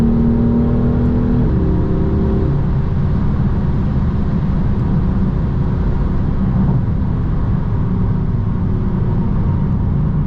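A BMW M4 with a 3.0-litre 431 hp turbo engine and DCT gearbox revs and accelerates, its loud, close engine tone climbing early on, then settling into a sustained, powerful drone.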